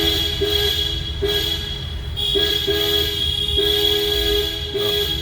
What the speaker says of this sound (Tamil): ஹாரன் இங்கே தான் அடிங்க. நல்லா அடிங்க.